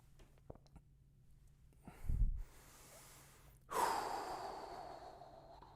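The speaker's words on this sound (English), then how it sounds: "it's just me kind of just breathing like that" A lone person breathes heavily and with effort while training with a hand gripper, letting out two forceful exhales close to the mic. A short snorting breath is followed by a longer, hissing blow after a pause.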